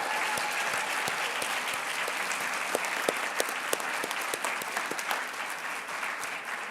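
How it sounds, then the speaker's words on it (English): Audience applause for Chancellor's Award recipients at a university honors ceremony, a steady wash of many hands clapping throughout, with a few sharper individual claps standing out near the end. "Let's have a round of applause for all of these recipients."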